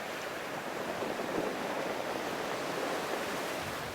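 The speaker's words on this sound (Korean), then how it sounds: "파도가 덮쳐올 때마다 시원하게 퍼지는 돌 구르는 소리." Winter sea waves wash over rounded pebbles on the Gangneung shore, a soft, steady hiss of surf and rolling stones heard alone at a moderate distance.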